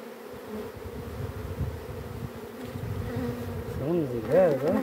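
Honeybees buzz around a hive while a colony is split into boxes, a dense continuous drone that grows louder and wavers toward the end as bees fly close.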